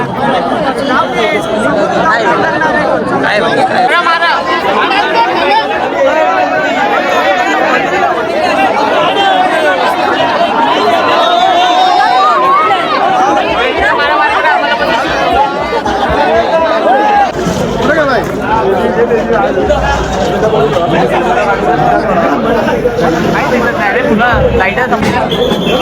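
Crowd chatter of many people at the Ekvira Aai temple, a dense, loud babble of overlapping voices that carries on steadily, with nearby talk rising out of the hubbub.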